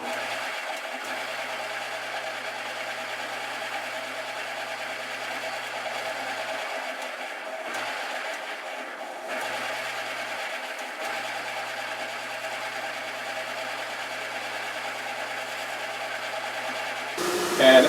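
Radius disc sander running in a guitar workshop during a Stratocaster kit build, a steady whirring motor hum with a low tone that drops in and out, ending in a louder burst.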